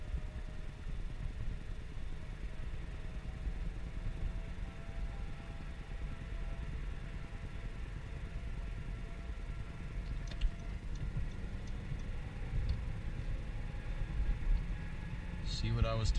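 Steady low road rumble and engine drone of the mau5mobile 2.0 cruising with a freshly adjusted clutch, a continuous in-cabin hum that swells slightly near the end, with a voice talking over it.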